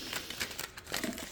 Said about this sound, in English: Okay, we're going to just shuffle them up.